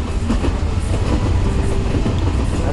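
A train in the Train Station 2 video game pulls into a station with a continuous loud rumble and clattering wheels. The sound is close and steady, with no speech.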